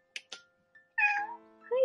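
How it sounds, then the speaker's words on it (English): A domestic cat meowing indoors: two short chirps, then a longer, louder drawn-out meow and the start of another, close and clear against a quiet room. "I'm not really sure what she's meowing for"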